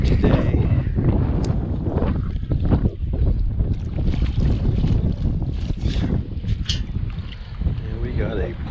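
Wind roars and buffets the microphone throughout at a lake during metal detecting, a constant loud rumble with scattered rustling and knocks.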